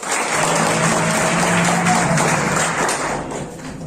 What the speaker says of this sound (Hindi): इसलिए इस प्लेटफॉर्म के लिए एक बार जोरदार तालियां।